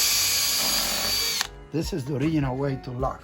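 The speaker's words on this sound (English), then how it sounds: "my dad is drilling the smallest hole we can so we don't rip" A power drill bores a tiny pilot hole in wood for a homemade skateboard, a loud steady whir that cuts off after about a second and a half; a person then speaks.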